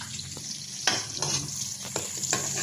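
Onion and garlic frying in a pan for adobong kangkong, with a continuous close sizzle and crackle and intermittent stirring scrapes throughout.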